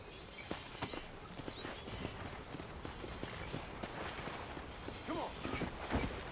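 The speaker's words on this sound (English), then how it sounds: "Oh, there's my horse." Steady clip-clop of horse hooves walking in Red Dead Redemption, a regular rhythm of hoofbeats with ambient game background noise.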